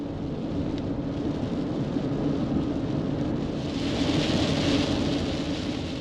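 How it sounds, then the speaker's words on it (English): Heavy rain comes down steadily while a van drives on the highway, giving a dense, even wash of noise around the vehicle with road rumble underneath and no breaks. "We got some rain. Check this out. It's coming down pretty good now."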